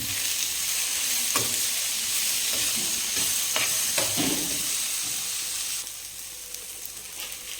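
Tomato sautés in a pan with chilies and curry leaves for a Sundakaai chutney, a loud continuous sizzle broken by several scraping stirs of a spoon, easing slightly toward the end.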